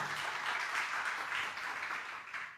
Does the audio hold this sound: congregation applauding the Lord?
yes